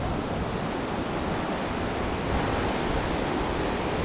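Waves wash onto Rajbagh beach in Goa as a broad, steady roar of surf with some wind noise, continuous and fairly close.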